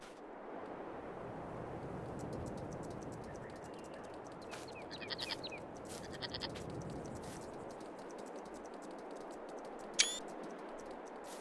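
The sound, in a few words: sheep bleating in a video game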